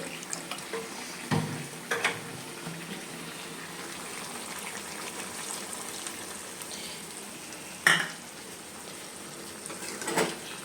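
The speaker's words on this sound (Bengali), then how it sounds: "আর একটুখানি যে মশলাটা লেগে আছে বাটিতে, তাই জন্য একটু সামান্য জল আমি দিয়ে দেব" A little water is poured into a bowl with spices clinging to it, a soft, steady trickle and swirl running close and quiet, with a few sharp knocks of the bowl and no talk.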